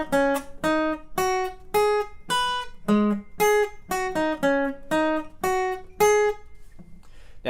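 Electric guitar riff from a song: about a dozen clear, separately picked notes in a bouncy, even rhythm across two matching phrases, close and alone.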